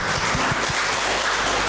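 Audience applause at an international academic conference after a speaker's talk, a brief, steady burst of clapping filling the room with a few low thumps underneath.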